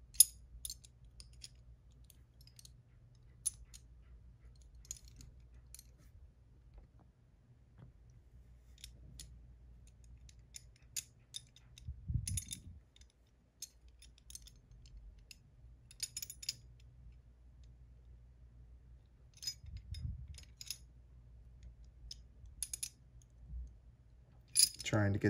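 Small precise metal pieces of a Hanayama level 3 violin puzzle click and tick together in sparse, quiet bursts while being slid and pushed, with long near-silent gaps between the handling sounds.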